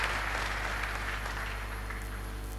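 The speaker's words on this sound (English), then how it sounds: "So clap for yourselves as well." Audience applause at a university distinguished speaker series on industrialisation in a large hall, a dense, even wash of clapping held at steady volume throughout without voices on top.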